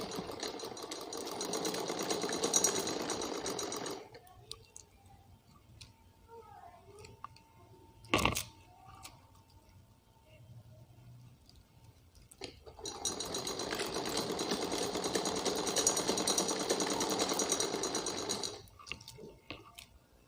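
Sewing machine stitching the lining of an umbrella frock, two long steady whirring runs of stitching separated by a quiet pause with a sharp click in between.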